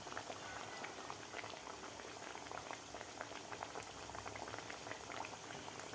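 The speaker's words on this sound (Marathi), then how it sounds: "मिडियम गॅसवरच आपल्याला हे कचोरी तळून घ्यायची आहे." Green pea kachori deep-frying in hot oil over medium gas, a steady, faint bubbling sizzle with fine crackling pops throughout, no talk.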